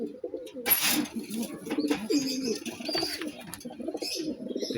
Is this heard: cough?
no